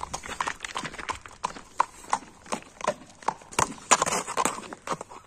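A handsome horse's hooves clip-clop in a steady run of sharp knocks, fairly close and alone, with an occasional faint neigh.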